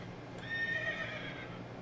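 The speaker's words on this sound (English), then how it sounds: "I should hop back on the horse." A horse in a video game gives a single loud whinny that rises and falls over about a second, heard up close with faint hoof clip-clop and game ambience underneath.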